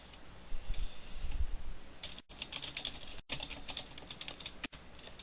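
Fingers tap a computer keyboard in quick irregular bursts of clicks, close and fairly quiet, with brief pauses between runs of keystrokes.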